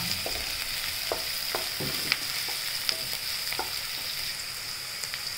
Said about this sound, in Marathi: कांदा टाकूया तेलात, तो छान परतून घेऊया।